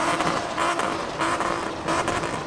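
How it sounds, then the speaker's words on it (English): Cars pulling away from a nighttime car meet in the rain, including an R32 Golf, their engines droning steadily at a moderate distance with a few swells as vehicles pass, no talking. "So cars are leaving just up here."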